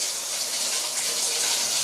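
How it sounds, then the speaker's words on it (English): Cold water runs steadily from a bathroom tap in a continuous, close, fairly loud broadband rush that holds even for the whole moment, with no talking over it. "So we're going to turn on the cold water."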